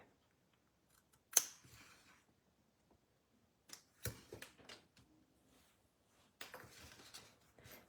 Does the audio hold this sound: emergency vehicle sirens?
no